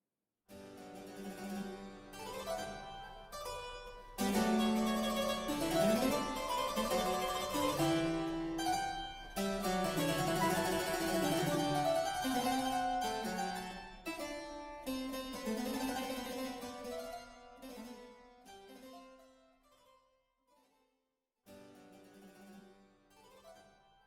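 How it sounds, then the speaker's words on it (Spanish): Bach's Goldberg Variation 16, the Ouverture with its 16-bar theme, sounds on solo keyboard with stately dotted rhythms and full chords, fairly quiet and unaccompanied, with brief pauses between phrases. "empieza con un tema de 16 compases que se llama Ouverture y suena así."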